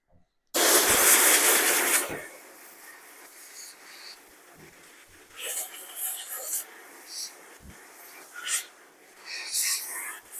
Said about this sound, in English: Okay, now compressed air.